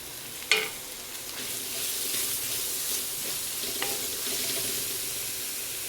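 Onions with ginger and garlic sauté in a pan, giving a soft, constant sizzle with a sharp clink near the start and a few quieter utensil taps later, all fairly faint.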